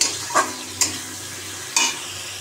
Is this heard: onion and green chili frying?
yes